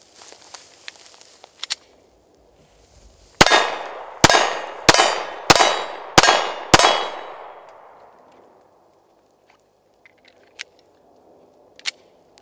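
A Glock 43 pistol fires six sharp, loud shots in a quick, fairly even string, each with a short echoing decay on an outdoor range, with faint clicks and handling noises before and after.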